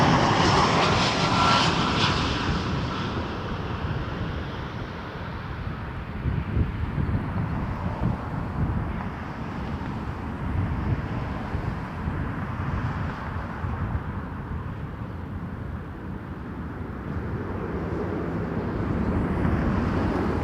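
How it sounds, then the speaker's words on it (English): Airbus A320 airliner engines at Toronto Pearson Airport, a loud steady jet roar that holds for the whole stretch with light wind buffeting on the microphone and no talking. "Here's an Airbus A320."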